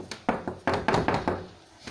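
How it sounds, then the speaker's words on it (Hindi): Several knocks on a door at night land in an uneven cluster, two single raps followed by a quicker run of four solid thuds, close and fairly loud, then quiet. "तभी दरवाज़े के नॉक की आवाज़ आई।"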